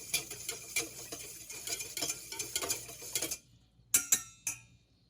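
Yeast being stirred into liquid to dissolve it for baguette dough, a steady run of quick clinking, scraping strokes for about three seconds, then a pause broken by a few sharp isolated taps.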